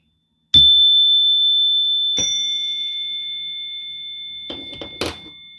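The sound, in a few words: suggestion bell ding from an app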